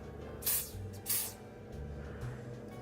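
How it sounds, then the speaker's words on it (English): Two quick hissing bursts of hairspray from a pump bottle, close by, followed by quiet. "So we'll spray and see what it smells like."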